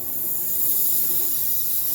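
A diesel-fuelled kitchen cooking stove vents pressure with a steady, moderately loud hiss that holds evenly for the whole stretch, with no talking.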